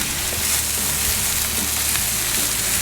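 Rice sizzles steadily on an oiled Camp Chef FTG600 flat top griddle, a loud, continuous broadband hiss of frying with faint scraping underneath and no voices.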